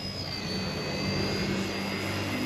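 An RC ERA UH-1 model helicopter flies with a steady, continuous motor whine and rotor drone. The drone holds at a constant level close by, with no talk.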